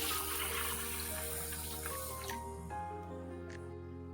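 Water poured into a vessel over washed peanuts and green gram, a steady close splashing rush that cuts off midway, leaving a fainter trickle and a low background hum.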